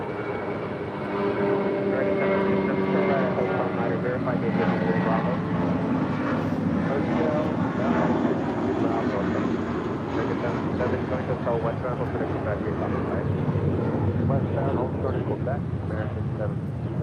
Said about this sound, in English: Spirit Airlines flight 3673 heading to Boston in an A320. Next departure here on the south side on 25 right.